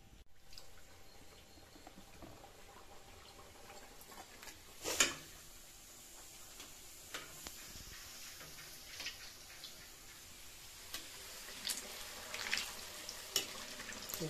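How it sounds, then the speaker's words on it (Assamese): Refined oil heats in a kadai for frying puri, giving a faint, steady low sizzle with occasional soft ticks and small pops, close by and alone. "এতিয়া কেৰাহী উঠাই দিলোঁ, ৰিফাইন দি দিছোঁ গৰম হ'বৰ কাৰণে"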